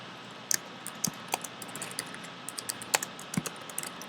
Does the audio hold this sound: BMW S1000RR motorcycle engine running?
no